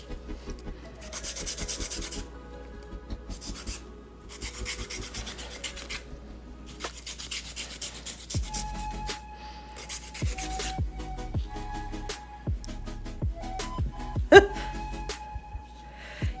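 Quick rasping strokes of filing a hard gel stiletto nail come in bursts, close and fairly soft, with pauses and small taps between them.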